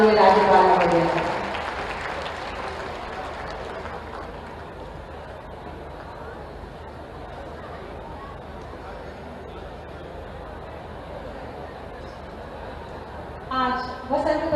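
A crowd at an outdoor ceremony for Maharaja Suheldev's birth anniversary applauds the Governor of Uttar Pradesh. The clapping is sustained and dense for about twelve seconds, with a speaker's amplified voice heard at the start and end.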